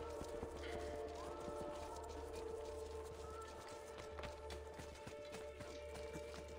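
Horse hooves clip-clop steadily in Assassin's Creed II, a continuous trotting patter mixed with ambient game sounds and a faint whinny, with no talking.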